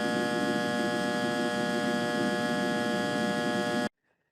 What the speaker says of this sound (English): Power transformers must meet very strict noise emission standards, mostly focusing on the so-called hum noise.